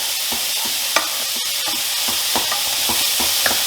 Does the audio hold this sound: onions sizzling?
yes